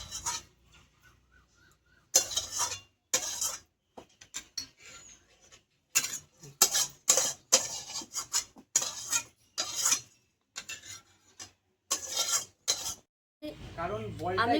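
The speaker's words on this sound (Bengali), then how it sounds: "দিয়ে কড়াই ধুয়ে উনুনে কড়াই বসিয়ে দেবো বড়া ভাজার জন্য" A metal kadai wok is scrubbed and washed in a home kitchen before going onto the stove, with short bursts of rasping, scraping strokes and clinks separated by quiet gaps.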